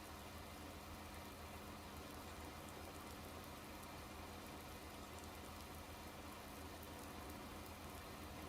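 Rain falls in Farming Simulator 19 on the Flint Hills map, a steady dense hiss of rain with a low engine-like hum underneath, constant and unbroken throughout.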